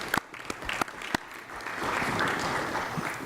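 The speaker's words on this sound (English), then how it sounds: "Please give him a round of applause." After a few scattered, sharp claps, audience applause at a conference on infrastructure financing for American cities swells into a soft, steady patter heard from a distance.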